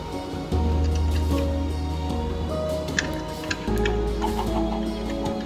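Chickens in the Minecraft video game cluck in short, repeated bursts over a constant droning background of layered steady tones.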